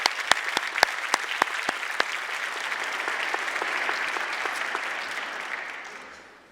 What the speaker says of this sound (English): I'd like to acknowledge them with a round of applause